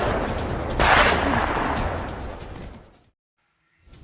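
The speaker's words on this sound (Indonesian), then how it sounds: "Pudin dan Samsul pun melakukan duet yang indah ketika menembaki beberapa musuh." Rapid gunfire in an action scene from the 2016 film The Gost, a dense loud burst of overlapping shots that swells, fades and cuts to silence before a faint return.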